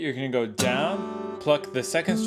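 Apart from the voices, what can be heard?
No everyday noises stand out.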